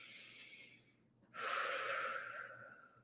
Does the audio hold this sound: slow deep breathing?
yes